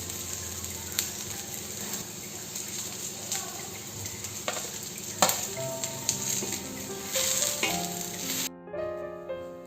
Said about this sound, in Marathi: तेलामध्ये कांदा हा छान भाजून घ्यायचा आहे. कांदा छान ब्राऊन झालेला आहे. आता यामध्येच आपण खोबरं भाजून घेऊ.